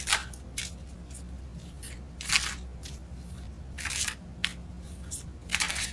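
Tarot cards are shuffled in repeated crisp, papery riffles and flicks, close by and fairly quiet, with a steady low hum underneath and no talking.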